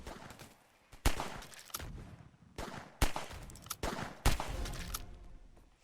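Gunfire in a pistol arena video game: several sharp shots at irregular intervals, some in quick pairs, with a busy game soundscape filling the gaps between them.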